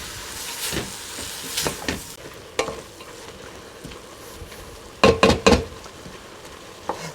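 Onions sizzle in a pan over medium-high heat, with scattered scrapes and clinks of a spoon stirring them, including a quick cluster of knocks near the end.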